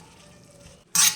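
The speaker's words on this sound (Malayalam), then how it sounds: "നമ്മളിതുപോലെ നന്നായിട്ട് ഇളക്കി കൊടുത്തുകൊണ്ടിരിക്കണം, നന്നായിട്ട് വെന്തു എന്ന് ഉറപ്പ് വരുത്താൻ വേണ്ടിയിട്ടാണ്." Beef ramen noodles are stirred in a pot during cooking. A low, steady kitchen hum gives way near the end to a sudden short burst of scraping and sizzling from the stirring, close by with no talking.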